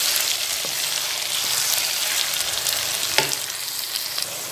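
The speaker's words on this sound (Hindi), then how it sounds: "अब हम इस मसाले में आलू अरबी को 5 मिनट भूनेंगे।" Potatoes and arbi (taro) fry in a spice masala, giving a steady, loud sizzle with occasional sharper crackles and stirring scrapes, with no talking over it.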